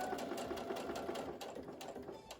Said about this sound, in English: Just sew in a straight line exactly where I'm showing you to sew with a machine.